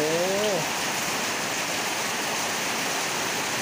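Torrential rain falls in Bang Pu, Samut Prakan, a constant rushing wash like runoff, with a brief voice at the very start before the downpour continues alone.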